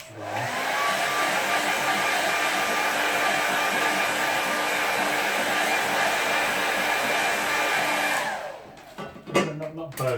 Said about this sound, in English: Quick dry.